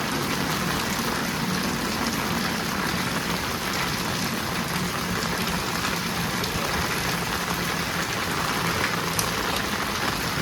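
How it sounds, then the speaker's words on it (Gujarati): Heavy rain pours down steadily, a dense continuous hiss with a low rumble beneath, loud and unbroken throughout with no voices. "જબરજસ્ત વરસાદ છે"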